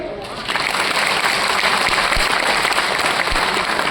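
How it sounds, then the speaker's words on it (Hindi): Dense, steady applause from an audience fills a gathering honoring contributors, starting slightly softer and swelling within the first half second into sustained, even clapping with no voices. "तो बड़ा काम तो बड़ी तालियां।"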